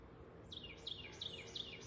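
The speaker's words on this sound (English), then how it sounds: "It's a beautiful bird." Faint birdsong: four quick, sweet chirps repeat at an even pace over a soft, steady background hiss, with no voices.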